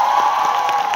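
Concert audience at Lululola in Đà Lạt clapping and cheering in a continuous dense wash, loud and steady throughout with scattered whoops on top.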